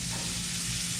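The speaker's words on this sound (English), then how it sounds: "stir it up just so the cherry tomatoes gets a little bit blistered" Cherry tomatoes sizzle steadily in a hot frying pan while they are stirred. The hiss is close and continuous, with no one speaking.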